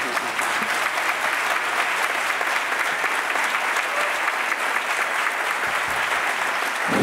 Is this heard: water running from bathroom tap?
no